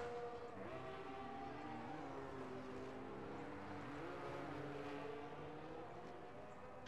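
A race car in a racing video game spinning out, heard as a faint, continuous engine whine whose pitch sweeps up and down as the car loses grip, with no talk over it.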